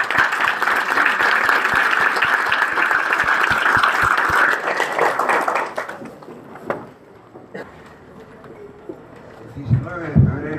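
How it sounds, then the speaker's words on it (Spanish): An audience at a lecture on nominalism and Umberto Eco gives a priest a warm round of applause lasting about six seconds. It fades into scattered claps and room noise, and a voice starts at the end. "Recibimos al Padre con un gran aplauso"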